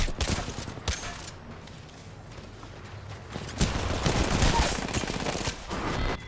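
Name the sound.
shotgun fire in a video game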